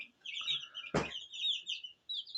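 Baby chicks one to two weeks old peep close by in rapid high chirps, with a short bump or rustle in the middle and quiet surroundings.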